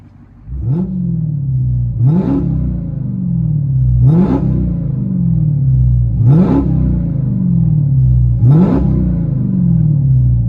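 From inside the cabin of a 2020 Dodge Charger SRT Hellcat with a 6.2L HEMI V8 and aftermarket exhaust, a deep engine rumble holds steady while five evenly spaced revs swell and drop back, loud and close.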